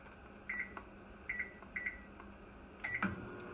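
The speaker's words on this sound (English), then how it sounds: "we're gonna put this in the microwave for about 3 minutes" A microwave oven softening cucumber slices in a bowl of water hums faintly, with a few short electronic beeps in quick pairs near and quiet, and no talking.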